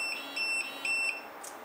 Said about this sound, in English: I will press number and press call. It beeps and vibration and flash.